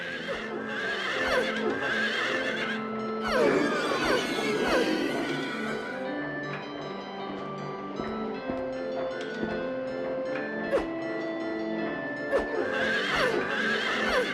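Horses neigh and whinny repeatedly over clip-clopping hooves in Silent Hill 3, with a steady tonal hum and occasional clatter, all fairly loud and close.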